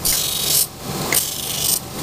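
A 65G spring-steel extruder knife blade is ground in three long rasping passes, each a harsh, loud scraping hiss with short pauses between.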